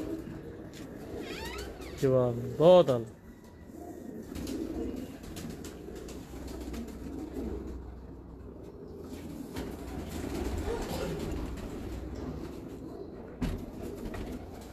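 Pigeons kept by a fancier make a couple of short, close, wavering coos early on, then faint bird sounds continue under men's conversation.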